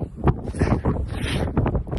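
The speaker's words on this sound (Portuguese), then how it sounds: "Talvez vocês não vão escutar nada por causa do vento." Strong wind blowing straight into the microphone outdoors, a loud continuous rumbling buffet with gusty bursts throughout, with no voices.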